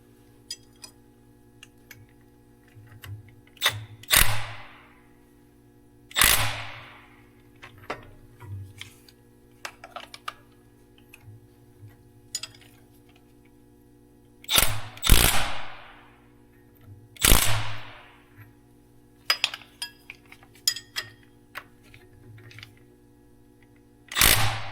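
Wrench tightening bolts under a tractor, heard as a few sharp metallic clicks and clanks spaced irregularly, some in close pairs, loud and close against a steady low hum, with no talking.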